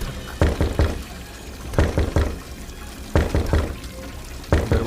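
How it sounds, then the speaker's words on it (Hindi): Heavy knocking on a door as a horror story sound effect, arriving in four bursts of rapid thuds, loud and close over a soft background hiss resembling rain. "दरवाजे पर 3 जोरदार दस्तक हुई"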